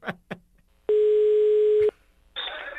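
Telephone tones while dialing a prank call: two short blips, then a single steady one-second tone, a pause and a harsher buzzing tone, clear and close.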